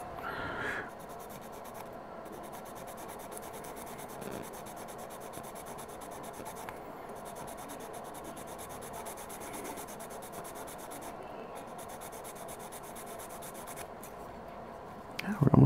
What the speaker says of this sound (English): Actually, I might have to sand this way a little bit.